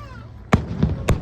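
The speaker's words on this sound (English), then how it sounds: "Wow, lots of fireworks." Fireworks burst in the distance, two sharp booms about half a second apart with a softer pop between them, under a faint background hum.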